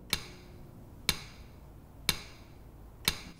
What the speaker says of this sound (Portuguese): abra-as com um cinzel de pedreiro e um martelo